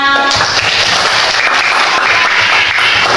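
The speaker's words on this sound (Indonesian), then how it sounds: "Beri tepuk tangannya." A class applauds a student's answer with steady, dense clapping that fills the room without a break, loud and continuous throughout.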